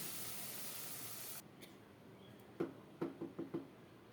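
Boiling hot water poured onto frying rice for chicken pulao sets off a loud steady hiss that cuts off sharply, then a few quiet knocks and taps follow in a short uneven run.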